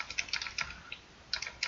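Password typed on a computer keyboard in a few quick bursts of light key clicks with short pauses between, close and quiet, no voices.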